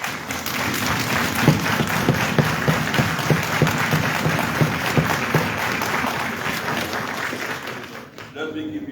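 Members of the Sierra Leone Parliament applaud the approval of a proposed Bank of Sierra Leone governor, a sustained roomful of clapping and desk-thumping with steady rhythmic beats, lasting several seconds before cutting off.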